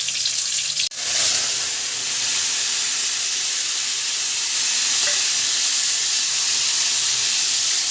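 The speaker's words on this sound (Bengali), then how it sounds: "এই তেলেই চিংড়ি মাছগুলো ভেজে নেব" Shrimp frying in hot oil in a wok, a steady loud sizzle running throughout with one brief dip near the start and no talking.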